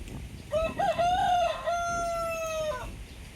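A rooster crows loudly nearby, one long drawn-out call with a rising start and a sustained tone, standing alone.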